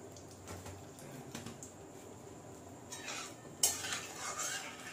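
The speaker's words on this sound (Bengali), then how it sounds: "এই যে হিং, হিংটা দিয়ে দিচ্ছি। তেলটা হালকা গরম হয়ে গেছে," Asafoetida goes into lightly warmed oil and is stirred. Quiet utensil taps and scrapes come first, then a brighter sizzle rises near the end with a sharp clink and keeps going.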